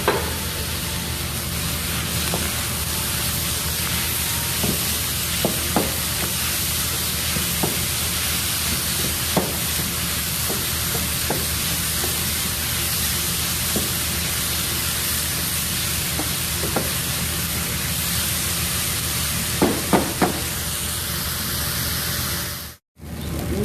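Steady loud sizzling of meat and onion frying in a pan after chopped tomato goes in, a continuous hiss with occasional faint clicks and stirring taps throughout, no talking.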